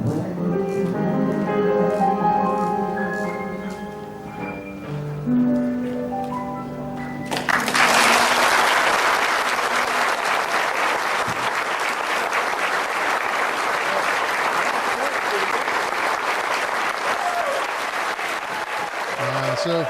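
A held sung note with backing music fades, then a large audience bursts into sustained, loud applause for singer Betty as she leaves the stage, the clapping carrying on steadily to the end.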